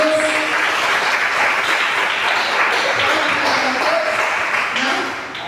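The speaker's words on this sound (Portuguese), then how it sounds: "Dá uma salva de palmas para Deus" A church congregation at a Quadrangular (Foursquare) service claps together in sustained, dense applause, loud and even throughout with faint voices mixed in, easing slightly at the very end.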